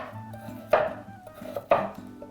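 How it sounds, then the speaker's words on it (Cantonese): A knife slices peeled turmeric root on a cutting board in a kitchen, giving two sharp, distinct chops about a second apart over faint background hum. "我哋去皮就切片"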